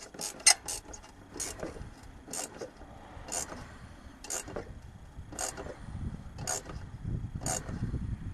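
A screwdriver tightens the small headlight screws on a 2015 Chevy Express with a faint, evenly spaced clicking about twice a second. It runs close and quiet over light rubbing noise.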